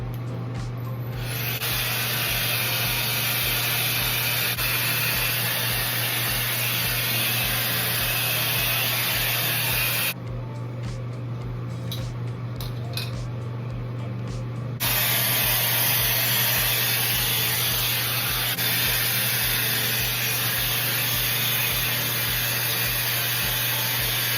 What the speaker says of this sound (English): I'm just gonna go ahead and blow dry the top of my little weft going on